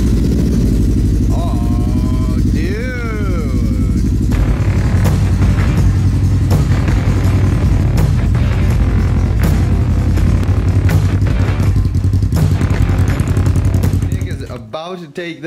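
A Polaris RS1 with a stage 2 tune, aftermarket exhaust and clutch kit idles loud and close, its engine chattering with rapid popping pulses and a deep rumble, a few revving swells rising over it before it suddenly cuts off.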